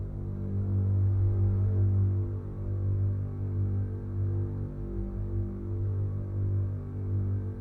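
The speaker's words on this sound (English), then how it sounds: "you guys heard how the double bass sounds, and you can definitely tell that it's pretty deep" A deep, sustained low double bass drone with steady bowed-string tone, held continuously at even loudness with no voices.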